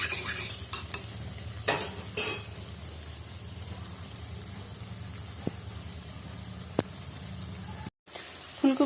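Cauliflower fritters frying in hot oil while a spatula stirs and flips them in the pan, a continuous sizzle broken by sharp scraping clinks and a few brief loud stirs early on.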